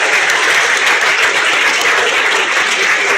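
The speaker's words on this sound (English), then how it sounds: "give this lot a round of applause, please" An election night audience at King's College London applauds in a loud, dense wash of many hands clapping, steady and unbroken from start to finish.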